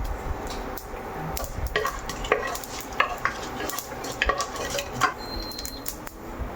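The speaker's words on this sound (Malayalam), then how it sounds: "എണ്ണ ചൂടാകുമ്പോൾ കുറച്ച് കടുക് ഇട്ട് കൊടുക്കണം" Mustard seeds and three dried red chillies crackle in hot oil, with sharp pops and clicks over a soft sizzle and occasional clinks of a spoon against the pan.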